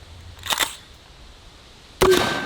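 A can cannon fires at a water jug: a short sharp pop, then a second louder burst about a second and a half later, both close and crisp with quiet between.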